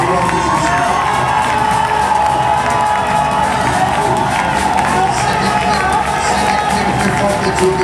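A church congregation at a thanksgiving service cheers and acclaims loudly and without a break, with shouting voices blending into a dense roar.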